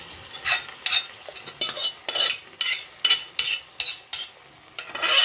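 Boiled lentils stirred into a Bengali-style tarka in a pan: a rhythmic run of distinct spoon scrapes, about two per second, over a low sizzle, close and clear with no talking.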